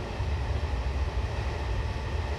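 A heavy train in Train Simulator 2017 runs hard under full power with a continuous loud low rumble and rolling clatter, steady throughout.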